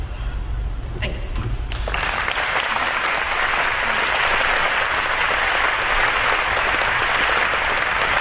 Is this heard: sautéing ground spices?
no